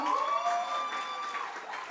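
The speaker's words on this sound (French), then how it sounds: "S'il vous plaît, applaudir chaleureusement Constance Kati-Rahabga" Warm applause at an award ceremony held at an ambassador's residence, a soft, continuous patter of clapping with a faint tonal voice or whistle running faintly through it.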